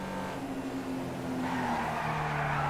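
Car engine with tire skidding in GTA V online gameplay, a steady loud engine drone with squealing tires rising in the second half, continuous throughout without talk.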